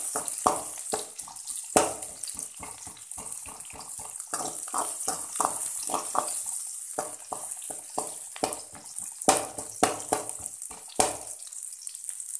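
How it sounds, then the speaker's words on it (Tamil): Onions dropped into mustard seeds crackling in hot oil, a close sputtering sizzle with rapid popping crackles throughout, fairly quiet and with no talking. "கடுகு தீயறதுக்கு முன்னே நம்ம வெங்காயம் போட்டுக்கலாம்"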